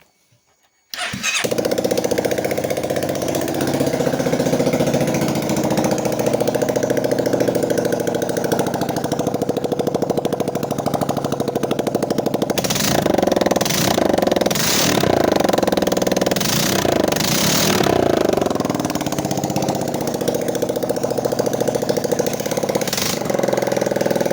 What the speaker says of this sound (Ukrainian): Давайте запустимо його.